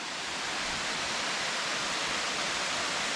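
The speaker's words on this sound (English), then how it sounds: "this is the waterfall for which we came down." A waterfall in Cherrapunji, India, reached by stairs, gives a constant, even hiss of falling water heard from a distance, fairly soft and with no voices.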